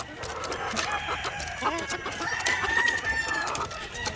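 Flock of young White Leghorn-cross chickens clucking and calling steadily on a farm, several birds close by, with a thin crowing-like tone rising partway through.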